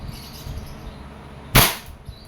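An EMG TTI Pit Viper gas airsoft pistol fires a single sharp, loud crack that decays quickly over faint background hum.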